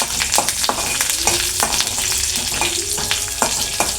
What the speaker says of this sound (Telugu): అన్నీ వేసాం కదా, ఇప్పుడు కలుపుకోవాలి.